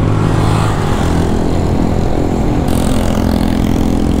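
A Honda 125 fuel-injected PGMFI motorcycle engine runs steadily and close, with a constant loud mechanical drone and a slight shift in tone partway through, and no voices.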